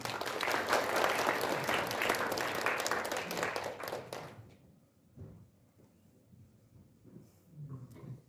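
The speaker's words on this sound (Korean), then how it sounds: "여러분 박수로 환영해 주십시오." Loud audience applause at a forum fills the first four seconds, then fades out, leaving only a quiet room with a few faint scattered sounds.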